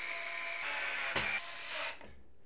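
A power screwdriver whines steadily close by as screws secure a motherboard inside a Montech King 65 Pro PC case, with a brief clunk near the middle before the motor winds down and stops.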